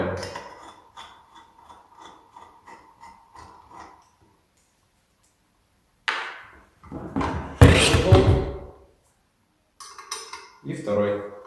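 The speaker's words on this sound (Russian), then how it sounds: "Снимаем крышку, которая находится под самой иглой и крепится на двух болтах." Metal clicks and rattles of tools and parts as a bolted needle cover is removed from a GK-9-2 bag sewing machine, with a quiet gap and then louder clunks and scrapes close by, with someone talking early on.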